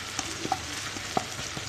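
Onion frying in a pan for a sardine kofta tagine, a steady close sizzle with a few soft stirring scrapes and clicks of the utensil against the pan.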